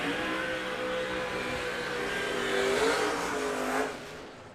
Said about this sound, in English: So burnout's being complete here on the racetrack.